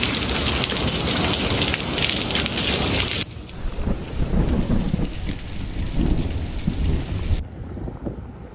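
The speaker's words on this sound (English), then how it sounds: "it started raining" Rain falls steadily and heavily outdoors near a carport during a thunderstorm, a dense continuous hiss that drops to a softer, more patchy patter partway through before nearly fading at the end, with no talking.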